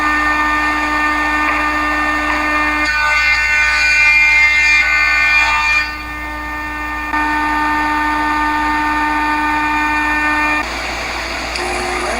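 A planer surfaces rough-sawn lumber cut on a Wood-Mizer sawmill down to 3/4 inch, making a loud, steady machine whine with a strong hum throughout and a change in tone as each board feeds through.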